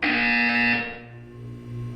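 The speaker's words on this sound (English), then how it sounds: "When you hear the buzzer, look up at the ceiling." A single harsh electronic buzzer blares loudly from a Portal 2 test chamber for under a second, then cuts off, leaving a low hum behind.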